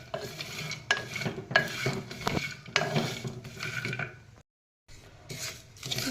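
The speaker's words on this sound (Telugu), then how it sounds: "ఇలా చక్కగా డ్రై ఫ్రూట్స్ అన్నీ కూడా సిమ్లో పెట్టుకొని వేయించుకోవాలి కుండలో" Dry fruits, nuts and seeds being roasted over low heat in a clay pot, with a continuous rattling, scraping stir and a light sizzle, close and steady, broken by one brief pause.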